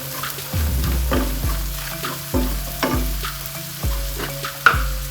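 Curry leaves sizzle in hot oil for chicken biryani, a steady crackling fry punctuated by repeated low scraping thuds of stirring about every second, close and fairly loud, with no talking.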